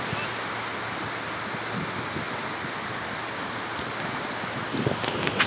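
Waves coming in on the shore at Seward, Alaska, a steady broad wash of surf with wind noise, swelling slightly louder in the final second.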